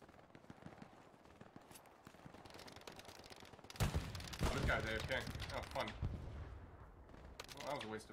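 Machine gun fire in the World War II shooter Hell Let Loose, starting as faint distant rattling bursts, then a louder close volley of shots midway, with a voice speaking over the gunfire.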